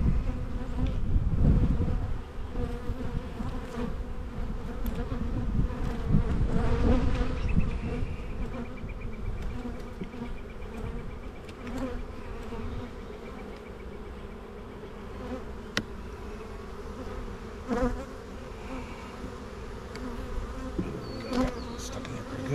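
Honey bees hum in a dense, continuous buzz throughout an open-hive inspection in spring, loud and close, with occasional clicks and handling noises beneath the swarm.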